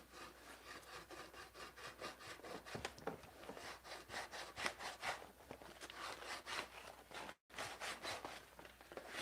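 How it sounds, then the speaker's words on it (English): A knife scrapes across buckskin leather in repeated rhythmic strokes, a dry rasping rub, faint and close, with a brief pause near the end. "I've been using the knife Wes sent me as a knife to scrape this buckskin here."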